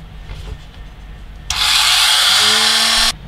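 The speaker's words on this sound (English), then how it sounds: "I'm going to use the sanding drum on this Dremel just to make that notch bigger" A Dremel rotary tool with a sanding drum enlarges a notch, making a loud, steady high whine with grinding friction that runs for about a second and a half and then stops abruptly.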